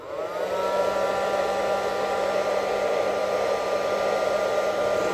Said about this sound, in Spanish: Siempre tienen que tener a la mano un secador de pelo.